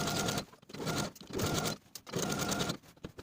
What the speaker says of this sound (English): Sew all the way around with a 5/8 inch seam allowance.